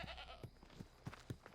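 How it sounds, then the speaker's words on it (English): Goat bleats in the Assassin's Creed Odyssey video game, several short quiet calls spaced irregularly over a faint background. "There's another goat!"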